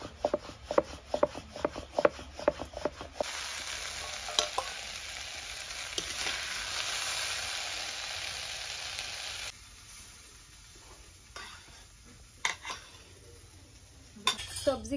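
Vegetables frying and being stirred in a pan as filling for egg rolls, with scraping utensil strokes against the pan, a steady sizzle through the middle, then lighter clinks and rubs near the end.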